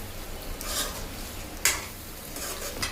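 Stuffed brinjal masala curry stirred in a pan: soft scraping strokes over a low sizzle, with one sharp metallic clink of the spoon partway through.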